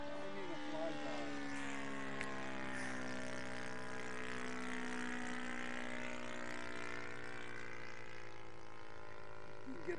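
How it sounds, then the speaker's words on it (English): A Cub light airplane makes a flyby, its propeller engine droning steadily and strongly for the whole stretch, with a faint rise and fall in pitch as it passes. "Make a nice flyby just so we can hear it."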